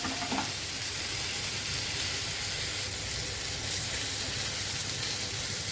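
Sliced ridge gourd with turmeric sizzles in a pan, an even, close, unbroken frying hiss after a brief clink at the start, with no one speaking.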